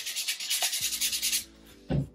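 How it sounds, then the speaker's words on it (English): Sandpaper rubbing along the freshly cut opening of a handmade wooden bird house, a quick series of rhythmic, close scratchy strokes, then a brief pause and a single duller knock near the end. "Just do a little bit of sanding to kind of clean it up and get it attached."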